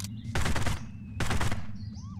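Uzi gunfire from the top-down shooter Postal Redux: two loud sustained bursts of rapid automatic fire, each about half a second, separated by a short pause, followed by faint whooshing game effects.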